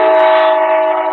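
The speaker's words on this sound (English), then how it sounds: "there goes the morning Amtrak train." Amtrak passenger train blowing its horn, a loud sustained multi-tone blast held steadily for over a second with no speech over it.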